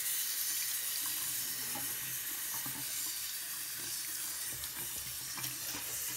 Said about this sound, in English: you just gotta make sure you get a nice little rinse down before you start